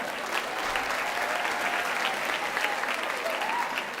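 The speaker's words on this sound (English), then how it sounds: "let's give all those a round of applause" Steady applause from a crowd at a school district convocation keynote, dense and continuous throughout, with no talking over it.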